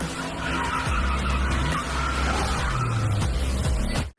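A blue Tamiya toy race car paired with a skidding effect: loud, continuous tire-squeal screeching with sliding engine-like tones throughout, cutting off abruptly at the end.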